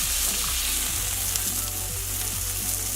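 A chicken paillard sears in a hot pan after being flipped, producing a dense, steady sizzle with soft stirring and scraping touches, close and loud, with no voices.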